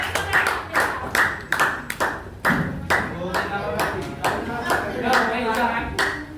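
Classmates clap their hands in a classroom, a run of sharp, separate claps in a loose uneven rhythm, close and fairly loud, with voices murmuring underneath.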